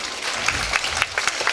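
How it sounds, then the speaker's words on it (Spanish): Studio audience on a television variety show applauding to welcome a guest, a dense, steady wash of clapping with scattered sharper claps throughout, fairly loud and close, with no voices over it. "que lo recibamos con un fuerte y caluroso aplauso"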